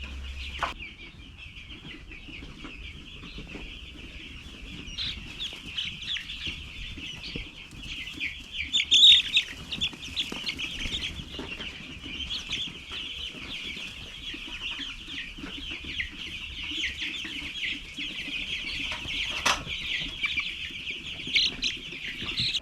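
Young chickens in a brooder, kept off heat, peep in a steady, dense chorus that runs without a break, with occasional faint wing flutters and knocks behind it.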